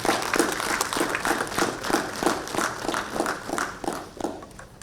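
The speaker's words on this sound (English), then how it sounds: "May I request the audience to give a big round of applause." Audience at an India ESG conference session applauds a special guest, Dr. Rajiv Sharma, being welcomed with a flag and bouquet: steady, moderately loud clapping that holds for the whole stretch with a rhythmic pulse.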